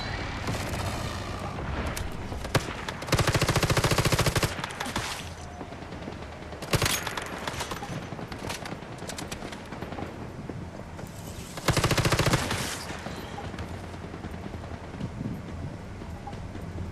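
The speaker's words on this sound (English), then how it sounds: "Someone's shooting at them" Gunfire in the mobile video game Once Human: loud bursts of rapid automatic shots in short volleys, with sharp single shots between them, over constant game background noise.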